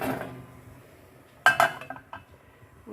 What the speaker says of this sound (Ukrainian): Накриваємо кришкою.